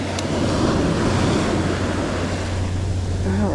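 Ocean waves break on a beach in a loud, continuous wash of surf, mixed with wind rumble against the microphone and a low steady drone underneath.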